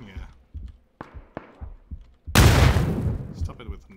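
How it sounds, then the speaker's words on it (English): Grenade blasts in PUBG: a few sharp thuds and short bangs, then one loud, broad explosion that rings out and fades over a second or so. "Stop it with nades already."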